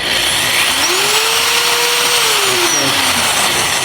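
A motorized Woodward Fab bead roller on a foot controller runs at full speed, a steady whining motor hum with a tone that rises, holds and falls back over about four seconds, loud and close with no talk.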